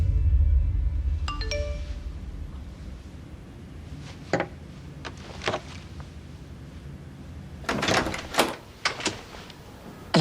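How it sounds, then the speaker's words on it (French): A ding-dong doorbell chimes in a French thriller film, with its tones ringing clearly at the start. Door and footstep noises follow in a quiet room. "Alors, j'ai une sonnette."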